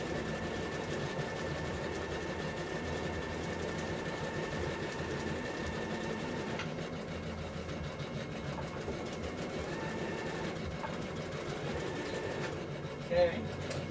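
A sewing machine runs steadily, stitching a seam forward and then in reverse at a 5/8-inch allowance, a continuous motor hum that shifts slightly midway, with speech faintly present.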